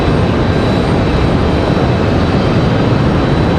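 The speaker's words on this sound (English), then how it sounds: "American 737 touching down. Coming in from LA." An American Airlines Boeing 737 touches down at Raleigh Durham International after arriving from LA, a loud, steady broadband engine roar close by with no one talking over it.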